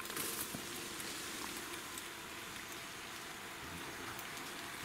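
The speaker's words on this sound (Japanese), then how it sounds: "雨降ってんのに。" Steady rain falls through an outdoor forest during a night stag beetle hunt at tree sap, a dense even hiss of drops on leaves filling the whole stretch with no voices.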